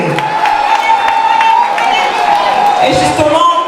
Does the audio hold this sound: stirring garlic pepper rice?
no